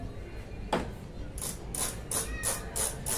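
A bicycle hub's freewheel ratchet clicking close up, first a single click and then a quick run of crisp, bright ticks as the wheel spins, fairly quiet with no voices.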